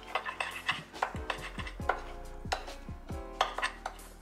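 Garlic and butter paste being mixed for a seafood boil, with a utensil repeatedly scraping and clinking against a bowl in an irregular rhythm, close and fairly loud, with no talking.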